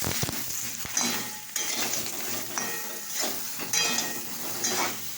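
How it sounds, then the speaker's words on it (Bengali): Salt and turmeric being stirred in a cooking pan, a soft sizzling hiss broken by intermittent scrapes and light clanks of the utensil against the pan, with no talking. "এবার আমি নাড়াচাড়া করব"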